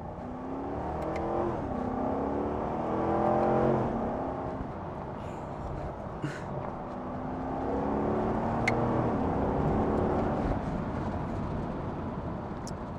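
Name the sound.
C7 Corvette 6.2 liter V8 accelerating and shifting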